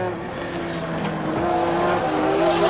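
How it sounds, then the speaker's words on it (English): Touring car engine roaring from an in-car camera during an Australian Touring Car Championship race at Mallala in 1989, a steady loud drone that climbs slightly in pitch and volume, with no talk. "We go in car with Sevens race cam with Peter Brock."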